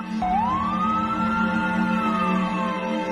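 A loud ambulance siren wails continuously, its pitch rising and then holding steady in a long sustained tone over a low engine drone.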